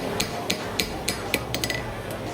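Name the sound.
hammer striking horseshoe on anvil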